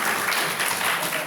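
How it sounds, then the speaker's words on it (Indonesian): Applause from a crowd, a steady wash of clapping that fills the whole moment without pause. "Tepuk tangan."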